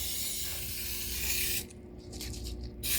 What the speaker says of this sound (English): And you want to spray the inside of your crock pot.